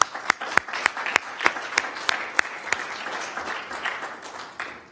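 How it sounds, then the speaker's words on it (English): Applause at a council meeting honoring a resident, with a few sharp, distinct nearby claps standing out over a thinner spread of clapping from a modest group. "So if we could just give her a round of applause."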